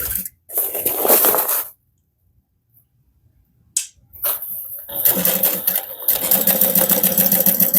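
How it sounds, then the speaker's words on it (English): A sewing machine top stitches a bag panel in loud mechanical bursts, stopping for a silent pause and then starting again in a longer steady hum and clatter, close up. "we're going to top stitch that using a 1/8 inch seam allowance"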